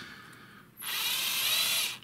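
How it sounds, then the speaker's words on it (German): A cordless drill driver whirs up steadily at close range for over a second, used to take apart the axles of an SWORKz Zeus V3 RC car, after a quiet start with no talking. "So, wir holen wieder meinen Freund den Akkuschrauber, den ich mittlerweile auch zweckentfremdet habe."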